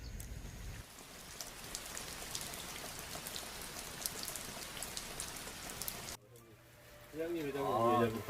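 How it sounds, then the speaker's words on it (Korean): Steady, heavy rain pattering densely on a surface at a campsite, broken near the end by a brief lull and a voice speaking over the downpour. "점점 비가 거세집니다. 오랜만에 빗소리가 정겹습니다."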